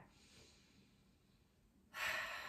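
Slow, deep breathing during a floor stretch in seal posture stays soft and close, then swells into a strong, airy breath near the end.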